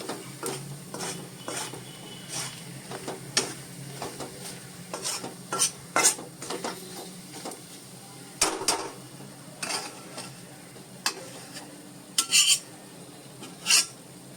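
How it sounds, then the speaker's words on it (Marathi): A flour mixture is stirred in a hot pan with a spoon, giving repeated scraping and clinking strokes over a soft steady sizzle, close and moderately loud with no voices. "हे असं व्यवस्थित मीठ सगळीकडे लागलं पाहिजे म्हणून हलवून घेणार आहोत"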